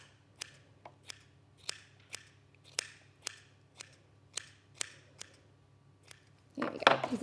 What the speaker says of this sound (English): really cut a pom-pom